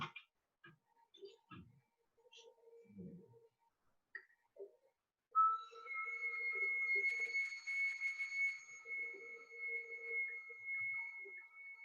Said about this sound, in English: I will do that with the gifted eagle whistle that I dance with.